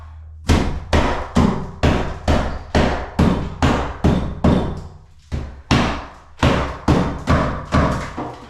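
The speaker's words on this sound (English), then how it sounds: "I'm hitting on something which is a stud, I think, right here." Repeated knocks on a wall stud during a bathroom renovation, about twenty sharp thuds in a steady rhythm with a short pause midway, loud and close with no talk.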